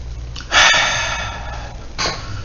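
A person takes a sharp, deep breath in, then exhales slowly, followed by a second shorter inhalation; close and breathy, with no speech.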